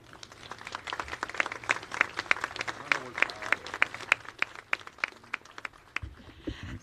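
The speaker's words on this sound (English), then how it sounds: "Clap for Mom." An audience at a municipal band concert in Peoria applauds with dense, loud clapping that stays steady for several seconds and then quickly dies away near the end.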